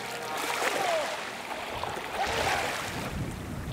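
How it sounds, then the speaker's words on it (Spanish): A rowing boat (chalupa) moving across the sea off a tiny islet, with steady wash of water and wind noise filling the scene continuously. "una chalupa rompe la quietud del mar"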